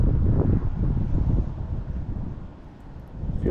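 Steady wind gusts buffet the microphone outdoors on the water while bass fishing from a foil board, a loud low rumble that swells and eases throughout.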